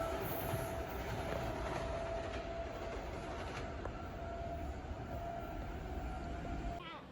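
An express train runs through Harrison Station in New York without stopping. It makes a steady, fairly distant rumble and rattle of wheels on rails, with a faint high whine, for several seconds.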